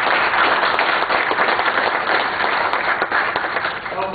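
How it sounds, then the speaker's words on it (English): An audience at a symposium speaker panel applauds the panelists with sustained, loud, dense clapping that carries evenly from start to finish. "let's give our panelists a round of applause"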